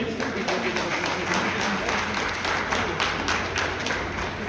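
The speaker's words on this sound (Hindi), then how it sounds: "एक ताली बनती है उनके लिए।" Audience clapping fills a group-song competition hall, a steady dense patter throughout with a murmur of voices underneath.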